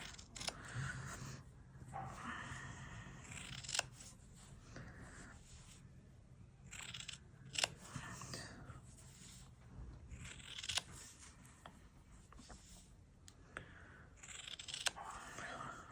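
Scissors cut fabric for a textile bowl, making quiet, repeated snipping and rustling sounds in uneven bursts, close but faint.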